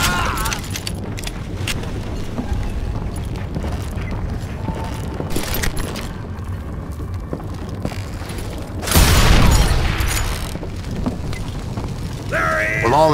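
Inside the game Call of Juarez Gunslinger, a single loud dynamite blast erupts midway amid clicking, creaking mechanical sounds and sporadic gunfire-like cracks.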